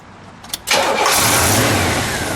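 A 455 cubic inch V8 in a 1970 Oldsmobile 442 convertible cranks briefly, then catches and roars to life, settling into a loud, rumbling idle close by.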